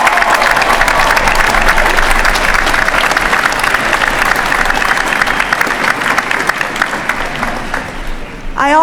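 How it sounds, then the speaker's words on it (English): Sustained applause from a large commencement crowd at a university final exercises ceremony, honoring the Army Band from Fort Lee; dense, steady clapping fills the whole stretch and tapers slightly near the end. "Please join me in a round of applause for the Army Band from Fort Lee."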